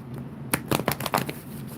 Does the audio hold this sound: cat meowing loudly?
no